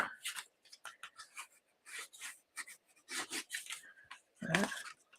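A tool burnishes a scored line on paper for a faceted gift box, giving short dry rubbing strokes in an irregular rhythm, close and fairly quiet, with brief pauses between passes.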